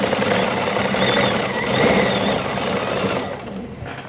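Baby Lock Anthem sewing and quilting machine stitching fabric, set up for long-arm quilting: a continuous rapid mechanical hum and patter running steadily for several seconds, then easing off near the end.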